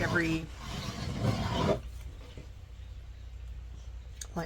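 A blade scores a 12-inch strip for a rosette with a short rasping scrape lasting a second or two, partly under a voice, followed by near silence.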